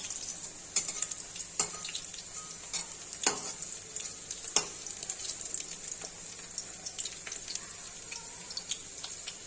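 Mourala fish fritters frying in oil, a steady close sizzle with scattered pops and occasional stirring clicks throughout, no voices.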